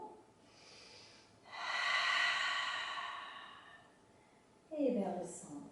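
A deep, steady inhalation during a yoga class swells for a few seconds and fades, followed by a short breathy exhale, close and fairly soft against a quiet room.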